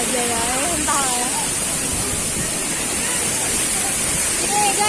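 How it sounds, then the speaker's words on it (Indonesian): Air Terjun Lembah Hijau Putra Jaya, a waterfall on Simeulue, rushes in a steady broadband roar throughout, with people talking briefly near the start. "Kami lagi di air terjun apa namanya? Air terjun Lembah Hijau Putra Jaya."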